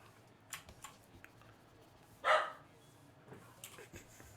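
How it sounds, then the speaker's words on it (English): A single brief bark from a dog in the background rises out of a quiet room, with faint ticks and small knocks around it. "Sorry about my dog in the background."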